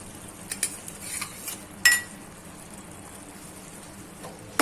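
A spoon scrapes and clinks against a pan as gunda paste is stirred into gravy, giving a few distinct metallic taps and clanks over a quiet, faintly bubbling background.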